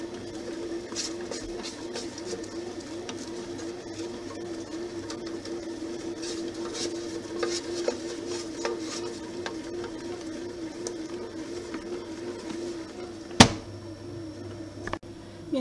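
A bread machine kneading focaccia dough, a steady rhythmic mechanical churning and whirring that runs continuously at moderate volume, with a couple of sharp clicks near the end.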